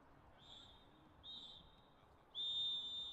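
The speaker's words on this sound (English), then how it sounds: "There is the referee's halftime whistle." Referee's whistle at an under-18 youth football match between Hillsborough Knights and Knockbreda, blown for halftime as three shrill blasts, two short ones followed by a longer, louder final blast, over quiet pitch ambience.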